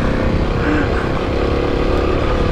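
KTM 690 Enduro and KLX250 dual-sport motorcycles ride a sandy trail, engines droning loud and steady up close without a break.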